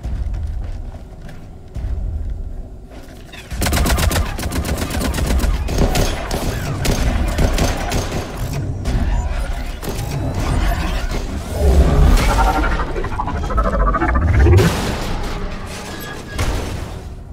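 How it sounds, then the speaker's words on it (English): Gunfire and explosions in the Mass Effect 3 Legendary Edition video game: dense rapid bursts of shooting and booming blasts run loud and nearly continuous after a quiet opening, with heavy low-end impacts building toward the end. "Oh, was that C-Sec shooting"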